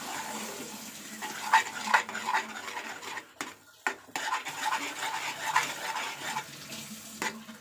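Semolina halwa is stirred in a pot with a ladle, scraping and clinking against the metal in an irregular rhythm with a short pause midway, fairly close and moderately loud, with no talk.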